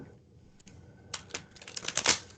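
A brief burst of shuffling a deck of tarot cards, quiet at first and then a quick flurry of crisp riffling clicks.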